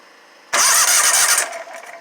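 A Ferris IS1500z zero-turn mower engine cranks and fires after a half-second of near silence, then runs loud and rough close by before settling toward a lower idle, with no voices.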